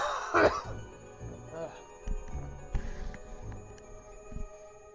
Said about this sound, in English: I need to cough before I read.